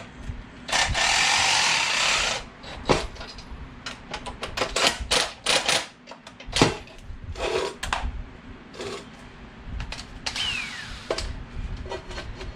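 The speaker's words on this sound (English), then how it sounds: "Let me drill this and get this piece out." A drill bores holes into a rear shock part for a 2021 Honda Monkey motorcycle, heard as close, loud bursts of grinding and rattling that start and stop repeatedly, with brief pauses between runs.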